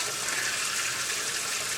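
Tap water runs steadily into a kitchen sink, a continuous broad rushing stream with no pauses and no voices.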